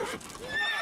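Roach the horse whinnies in The Witcher 3, a short bright neigh with hoof clip-clop close by, lasting under a second.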